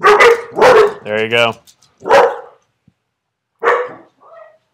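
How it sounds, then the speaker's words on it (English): Several loud, sharp dog barks burst out close by in quick pairs, joined by a short whining yip, followed by a pause and another bark, with someone speaking briefly in between. "My dogs are going to bark here in a second too"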